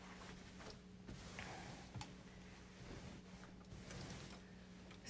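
A sewing machine stitches a quilt block, a faint steady mechanical whir with soft ticking and clicking of the needle mechanism, continuous and close, with no talking.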